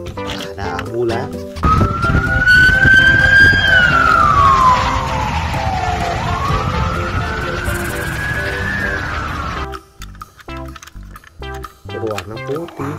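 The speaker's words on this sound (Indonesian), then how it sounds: "ada ambulan." A white toy ambulance wails with a rising and falling electronic siren for several seconds, close and loud, with rattling handling noise before and after.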